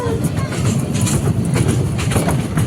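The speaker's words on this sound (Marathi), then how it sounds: "ट्रेन खूप फास्ट चालली हो हळू चालवा" A small amusement park ride train at Wonder Park rumbles and rattles along steadily, close by, with a rhythmic clatter and people's voices mixed in.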